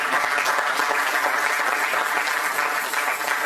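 A church congregation applauds in praise of the Lord, a steady, dense wash of clapping that holds evenly from start to finish with no voices over it.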